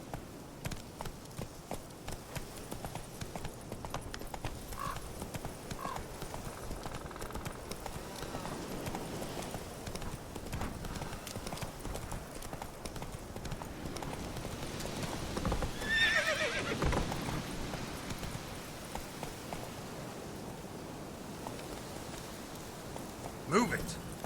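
Roach, the player's horse in The Witcher 3 game, galloping with rapid rhythmic hoofbeats and a whinny over game ambience, with a person talking intermittently on top.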